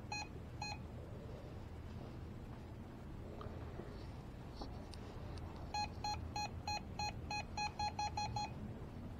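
Quick electronic beeps sound in short bursts, first briefly and then in a steady run of repeated chirps over a soft background murmur.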